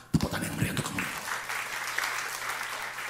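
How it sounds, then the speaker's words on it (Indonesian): Applause at a church sermon gathering, a moderate burst of clapping from the congregation that starts abruptly and continues steadily, with some voices mixed in at the start. "Tepuk tangan yang meriah untuk kamu."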